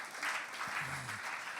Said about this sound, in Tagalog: Sige po, malakas sa palakpak.